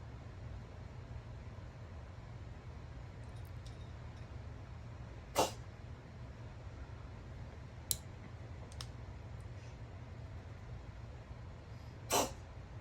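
Three short, sharp sneezes spaced several seconds apart over a steady low hum, with no talking.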